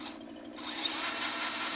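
A small power tool, likely a chainsaw, revs up steadily outdoors while clearing an old vine-covered fence line, the engine drone rising and holding loud after a brief quieter start.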